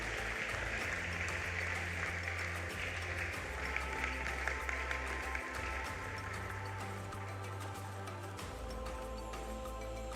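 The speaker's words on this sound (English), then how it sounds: "A round of applause for him," A graduation ceremony audience at Tema International School's annual achievers event claps steadily throughout, a dense, even wash of applause over a low constant hum from the hall.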